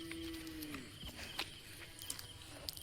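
Village cattle being brought home for evening milking moo faintly at a distance, one low drawn-out call standing out over a quiet outdoor background of insects and scattered footsteps.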